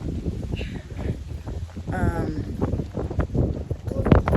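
Gusty wind buffets the microphone at Estoril Beach in Boa Vista, a rough rumbling roar that rises and falls, with a voice talking over it in bursts.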